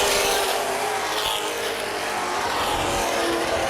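Late model race cars roar off together at a green-flag restart on a short oval speedway, a dense, loud engine wall that holds steady and unbroken throughout.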